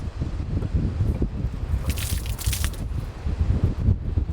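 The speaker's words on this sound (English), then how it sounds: "I'm gonna show you the shower for the sauna." An outdoor sauna shower on a remote Swedish archipelago island runs water in a steady splashing stream, with a brighter surge of spray midway, close and continuous with wind-like rushing beneath.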